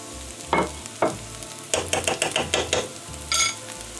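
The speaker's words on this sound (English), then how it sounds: "I like to make a little hole in the center of the pan and put a 1/3 tablespoon of ghee and the garlic." Carrots with ghee and garlic in a pan for curry fried rice: a soft sizzle broken by several sharp stirring scrapes and clatters in irregular bursts, close by, with no talking.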